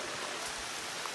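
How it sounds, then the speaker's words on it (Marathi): Rain falls steadily near Kolhapur, heard as a soft, even hiss for about a second, faint and with no voices or other sounds. "पाऊस चालू झाला खूप दिवसानं."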